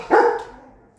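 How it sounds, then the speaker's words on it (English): A single sharp dog bark up close, loud and abrupt, trailing off into a faint yelp with no other sound around it. "Please excuse the dogs playing in the background."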